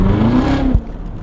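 A supercharged Corvette C7 Z06 engine revs hard, its rising whine climbing for most of a second before abruptly dropping off as the throttle lifts, heard loudly from inside the car.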